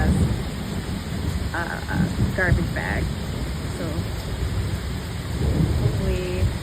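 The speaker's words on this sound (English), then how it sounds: "now it's really, really thundering and lightning." A thunderstorm with heavy rain on the Appalachian Trail: a steady, dense downpour with low rumbling thunder, while people talk briefly over it.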